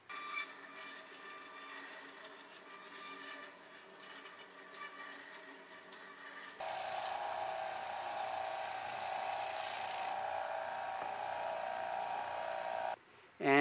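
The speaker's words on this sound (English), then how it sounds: "one of the most important tools is the disc sander" Disc sander running in a luthier's workshop, a steady whirring drone that steps up into a louder, brighter whine partway through, then stops abruptly near the end.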